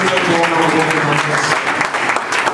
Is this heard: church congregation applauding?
yes